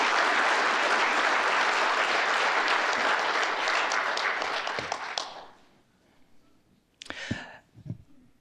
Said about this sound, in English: So a round of applause for all family members that support our veterans